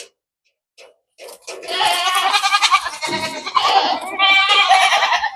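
Goats bleating at a goat farm in Saudi Arabia, several loud, close calls overlapping in a steady run of cries after a brief quiet start.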